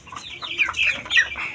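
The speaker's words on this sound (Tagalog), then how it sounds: "dito sa aking manok na tinamaan ng Polpax, itong dumpo" A three-month-old chicken suffering from fowl pox clucks close by in a series of short, uneven calls, with no one talking over it.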